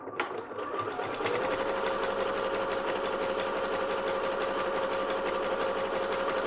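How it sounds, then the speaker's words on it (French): A sewing machine runs a continuous zigzag stitch along a washable, reusable fabric face mask, with a loud, even, rapid mechanical whir held steady for several seconds and no talking. "de nouveau point zigzag sur tout le long"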